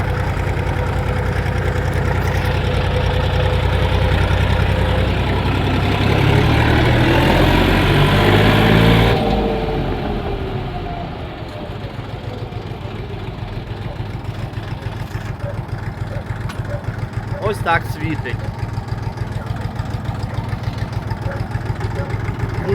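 A tractor engine on a Chinese tractor chugs at idle with a steady low throb; the note shifts down partway through and keeps knocking evenly afterward.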